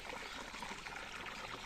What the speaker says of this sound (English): we gotta fill up the duck pond